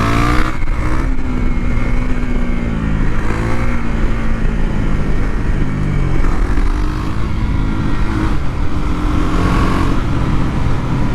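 A KTM Duke 390 motorcycle fitted with a 56-tooth rear sprocket accelerating in fourth gear downhill, a loud continuous engine drone rising in pitch with a brief dip mid-pull.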